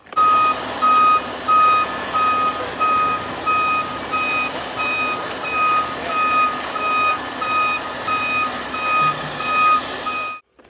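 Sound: excavator reversing beeps

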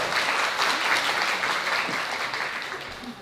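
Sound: wedding guests applauding

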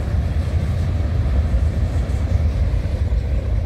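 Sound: CN northbound manifest freight train passing

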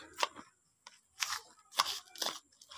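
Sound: stirring fish bait pellet mixture by hand

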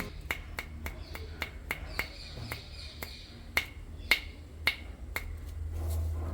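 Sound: tapping a mature brown coconut to check its sound

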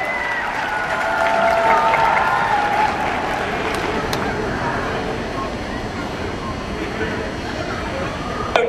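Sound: audience applause at a sports game

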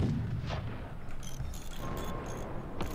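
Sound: flak gun firing in the video game Forts

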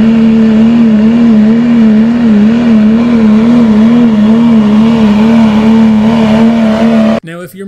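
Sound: coal rolling truck with modified diesel engine revving

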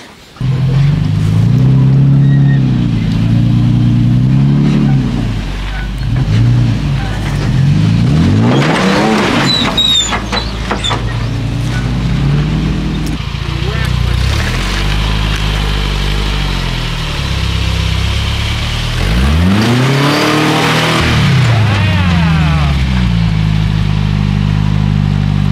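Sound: one-ton Toyota Tacoma engine revving while rock crawling

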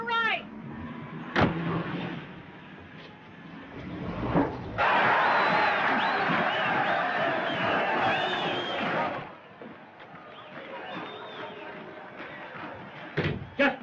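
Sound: boxing crowd yelling for the main event

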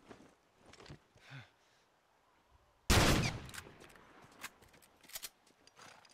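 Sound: gunshots at a lock in The Last of Us video game

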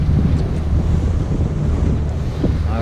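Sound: strong wind and waves on a stormy sea

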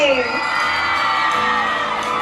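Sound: audience cheering and screaming after a stage performance

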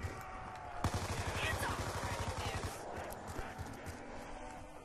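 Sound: gunfire shooting zombies in video game Black Ops 2 Tranzit

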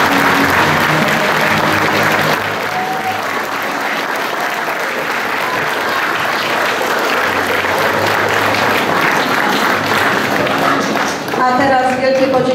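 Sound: audience applause after theatre premiere

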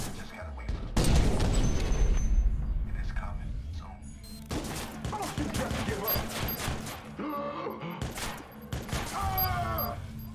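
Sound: grenade explosion and gunfire in video game Watch Dogs

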